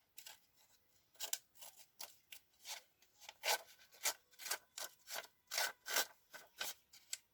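Paper edges being scraped and roughened with a distresser tool while making a junk journal: about fourteen close, rhythmic rasping strokes, some louder than others, with no voices.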